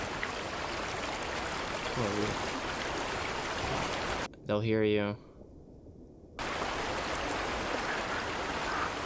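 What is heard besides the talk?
loud river flowing in A Quiet Place movie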